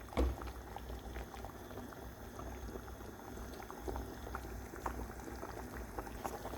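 Betawi sayur godog vegetable soup with shrimp simmering in a pot, a steady close bubbling and gentle liquid churning throughout with a brief clank at the start.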